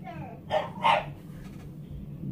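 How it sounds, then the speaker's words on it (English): A dog barks outside, two quick muffled barks from some distance, set against a low room hum with a person speaking nearby. "you can probably hear the dog outside"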